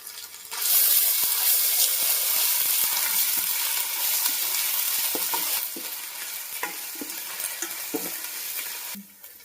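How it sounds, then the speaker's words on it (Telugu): Ginger paste fries in hot oil for chicken pulao, a loud continuous close sizzle and crackle that fades somewhat partway through and stops abruptly near the end, with faint scraping stirs underneath and no talking. "అల్లం పేస్ట్ కూడా మంచిగా ఫ్రై అయిందండి ఆయిల్లో"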